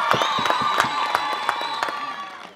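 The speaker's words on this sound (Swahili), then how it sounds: "Niombe makofi na vigelegele tafadhali" A crowd at a regional UMISSETA school sports competition for Hanang' claps and ululates: bursts of clapping under sustained high trilling ululation and cheering. The mixed crowd noise stays lively before tapering off at the end.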